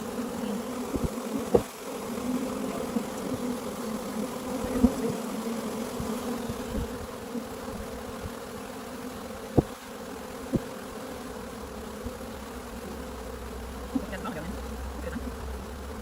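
A honey bee swarm buzzes in a steady, faint drone, with a few scattered nearby bee passes and light handling noises outdoors.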